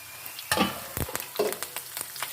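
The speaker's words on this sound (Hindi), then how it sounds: "हमने इधर ऑयल ले लिया और लहसुन डाल लिया। लहसुन को फ्राई कर लेंगे।" Oil crackles and sizzles in a pan, with sharp bursts of spattering as garlic is dropped in and stirred, nearby and fairly loud.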